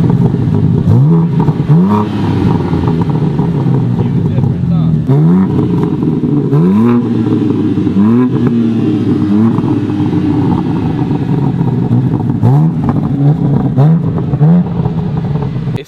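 A 2021 BMW M4 Competition revs with its exhaust valves open, giving a steady deep idle broken by about ten sharp rising blips at fairly even intervals, loud and close, with a brief murmur of voice.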